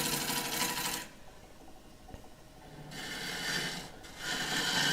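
A wood lathe cuts an oak burr bowl in two loud broadband bursts of rasping, scraping noise, broken by a quieter stretch near the middle where the tool lifts off the spinning wood.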